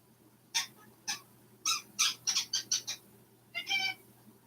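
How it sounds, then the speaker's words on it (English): A bird lets out a series of odd, raspy squawks and chattering calls, some clustered quickly together, fairly close against a quiet background. "It's a freaking weird bird."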